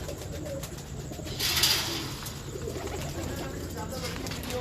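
Prize-breed pigeons cooing softly in the background while people talk over them, with a brief louder bird call near the middle.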